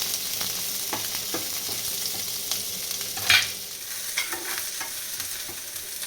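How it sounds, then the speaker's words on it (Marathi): Onions fry in a pan with a steady soft sizzle and occasional stirring scrapes, including one sharper clink near the middle, for a Marathi-style matar paneer base. "कांदा लालसर भाजला"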